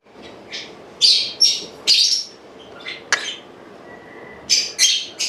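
Short high chirps from a young bird caught with moringa bark wrapped around its neck, scattered irregularly in bursts, near and clear against a quiet background.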